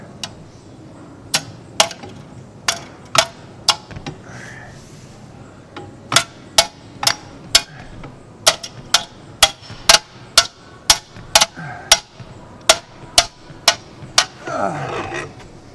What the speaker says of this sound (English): it's even more awkward to hammer it in